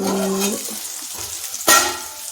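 Onion frying in a pan for a Telugu ladies finger and potato fry, a steady close sizzle with stirring scrapes and a sharp louder burst of hissing near the end.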